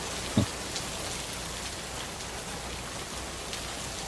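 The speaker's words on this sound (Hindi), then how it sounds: "अबे बारिश भी शुरू हो गई हल्की हल्की" Steady light rain hisses and patters on surfaces, with one brief louder tap near the start and no voices.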